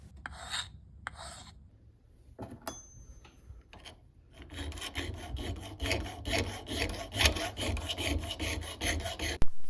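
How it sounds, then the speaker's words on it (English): Hand sanding a bowie knife handle with sandpaper, on a knife made from a lawn mower blade; a few short rasping strokes at first, then steady, continuous close scraping and rubbing that grows louder toward the end. "now I can start to hand sand the handle"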